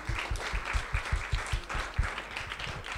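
Workshop audience clapping at the close of a session, a modest, loose group of claps with distinct individual hand strikes in an uneven rhythm, fairly close and without talk.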